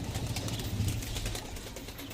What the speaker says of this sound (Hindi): तो ये कबूतर है अपना,